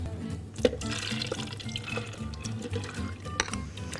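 Water poured into soaked yellow lentils for lentil bread, a close, continuous splashing and gurgling pour lasting a few seconds.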